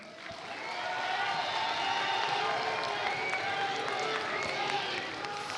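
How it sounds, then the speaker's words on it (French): An audience at a school pleading-contest final in Compiègne applauds the teachers, a sustained dense patter of many clapping hands that swells in the first second and holds steady to the end. "peut-être applaudir vos enseignants et enseignantes"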